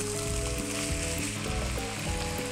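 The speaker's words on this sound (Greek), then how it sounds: "Να αρχίσει να σοτάρεται και αυτό για να βάλουμε και τα μανιτάρια μας." Bacon slices and mushrooms sautéing in a pan, a steady close sizzle and crackle running the whole time with faint scraping, no voices.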